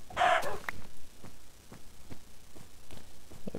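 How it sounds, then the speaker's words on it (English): A Minecraft chicken gives one short cluck near the start, followed by faint soft in-game ticks and ambient noise. "Another chicken."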